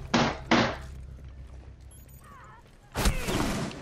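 Gunfire from an enemy player in the video game Rainbow Six Siege: two sharp close shots in quick succession, a quieter lull, then a louder burst of fire with ringing echo.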